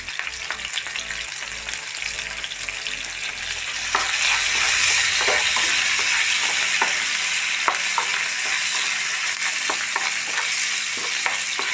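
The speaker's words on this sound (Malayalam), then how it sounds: "നന്നായി ഫ്രൈ ആവട്ടെ." Chopped green chillies sizzling in a pan for ginger pachadi, a steady close crackling fry with occasional stirring scrapes, growing slightly louder partway through, with no talking.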